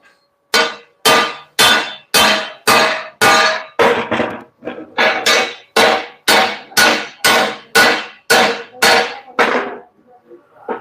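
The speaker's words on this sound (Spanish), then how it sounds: "Vamos a martillarlo." Steady hammering, about sixteen heavy blows in an even rhythm, each a sharp close thud with a short ringing decay, with a brief pause partway through and near silence at the end.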